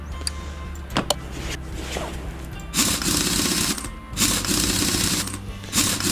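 In Car Mechanic Simulator 2018, an impact wrench tightens wheel nuts with a few loud, close, whirring rattling bursts, each running a second or so.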